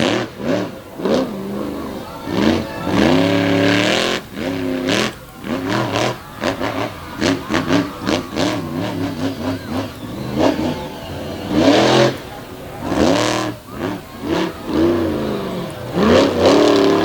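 The Crazy Train monster truck, driven by Triton Robbins in a 2021 freestyle competition in Bangor, Maine, revs its big engine loudly in repeated rising surges and drops, with crowd and arena noise underneath.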